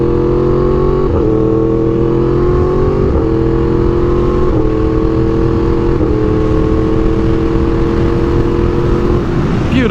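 A Yamaha R1M sport motorcycle engine running loud and close, a constant dense engine drone with repeated slight rises and dips in pitch as it revs, alone with no talk.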